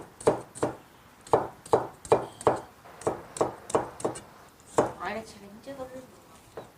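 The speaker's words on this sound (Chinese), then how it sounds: "姜蒜稍微多一点，切成壳块，不是剁碎哈，是切成壳块" A kitchen knife chops ginger and garlic into chunks on a board, about a dozen crisp, evenly spaced strikes close up, followed by brief talking at the end.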